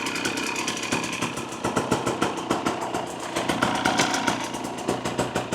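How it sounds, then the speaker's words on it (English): A small 2024 Husqvarna TE250 dirt bike engine with an FMF Turbine Core 2.1 exhaust idles steadily nearby, a rapid, even putter with a slight uneven lope, running alone without voices. "Sounds to be idling fine to me."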